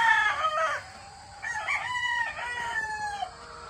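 A Prime Eagle gamecock at a gamefarm crows and clucks in a few drawn-out calls, with quiet rustling farmyard noise underneath.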